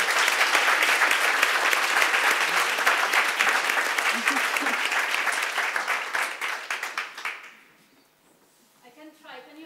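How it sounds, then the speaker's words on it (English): An audience at a conference round table applauds a panel with sustained, dense clapping that thins into scattered claps and fades to near silence near the end. "one more round of applause"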